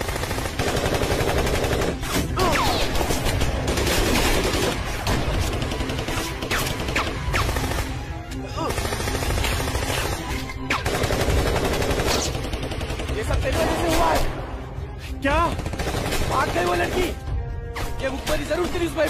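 Intense bursts of machine-gun and rifle fire in an armed standoff with army troops, loud rapid volleys repeating in clusters with brief gaps, some crashing impacts between them.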